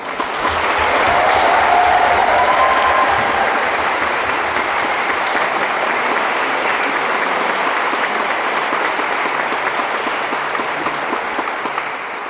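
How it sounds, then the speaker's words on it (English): Sustained applause from an audience honoring student musicians at a concert, a dense steady wash of clapping that stays loud and even throughout with no talking over it. "if you would please give the students a big round of applause"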